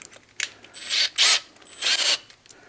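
A ratchet driver with bits tightens down a pull start: several quick bursts of close, loud clicking and rasping, separated by brief pauses.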